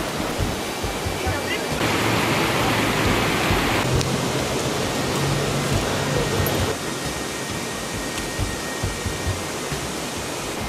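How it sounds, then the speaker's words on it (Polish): Szklarka waterfall near Szklarska Poręba pours with a constant loud rushing hiss of falling water, steady throughout, with a brief louder stretch in the middle and faint low hum beneath. "Stajemy na wodospadzie Szklarki."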